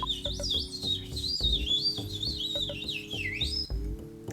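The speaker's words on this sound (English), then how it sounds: "Apparently, we have resorted to bird speak now." High, warbling bird chirps and tweets voice a character in the Earthbound video game, a quick wavering run of calls over steady electronic background music.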